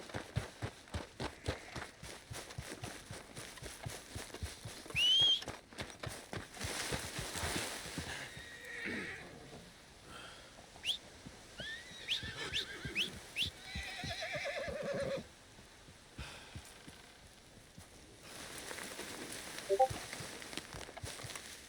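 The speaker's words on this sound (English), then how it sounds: "What's got this horse spooked, huh?" A spooked horse in the video game Red Dead Redemption 2 neighs a few times, fairly faint, against a busy background of shuffling, thumping noise.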